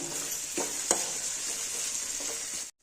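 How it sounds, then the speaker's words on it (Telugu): Ridge gourd fry with garlic, turmeric, chili powder and peanut powder sizzles steadily in a pan, a close bright hiss punctuated by a few scraping stirs before cutting off abruptly. "ఇవన్నీ బాగా కలుపుకుందాం"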